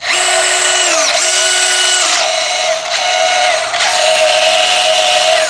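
An old portable deep-cut bandsaw cuts through material in close, loud bursts, its motor whine pitching down briefly under load and then recovering, with short pauses between passes.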